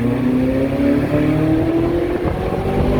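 Ferrari California 30 exhaust drones steadily as the car climbs a mountain road with the roof up, a continuous engine note rising gently in pitch under load, loud and close throughout with no talk.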